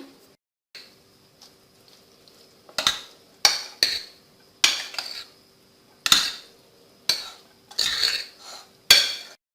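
Sauce is mixed into a Moroccan rice and vegetable salad. A spoon clinks and knocks against the bowl in separate, fairly loud strokes over quiet gaps, coming faster and denser toward the end.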